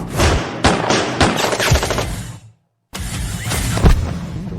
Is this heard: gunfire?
yes